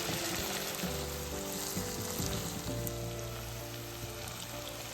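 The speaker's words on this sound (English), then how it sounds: "Saute for 3 to 4 minutes." Thinly sliced green chilies and peppercorns sautéing in an oiled pan for Andhra-style Kshatriya chicken, a steady loud sizzle with faint stirring scrapes throughout, no voices.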